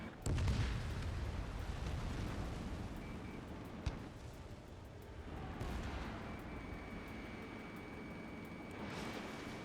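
An enemy UAV blows up in the Ace Combat 7 sky with a heavy boom near the start, followed by a long rumbling jet roar and a sharp crack midway, all loud and continuous with no talk.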